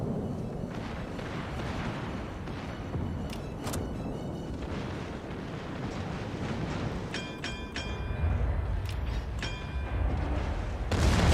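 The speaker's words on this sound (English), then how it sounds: "Concentrate fire on the enemy warship." Naval artillery from warships in World of Warships booms repeatedly in a dense, continuous battle barrage, with heavier rumbling blasts building toward the end and no speech over it.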